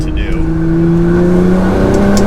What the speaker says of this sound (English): And you can hear the turbo almost being more like crazy